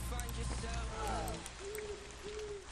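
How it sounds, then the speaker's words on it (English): An owl hoots in the video game Fallout: New Vegas, two soft drawn-out hoots rising out of outdoor game ambience and footsteps, with a player talking nearby. "Ooh, the owl."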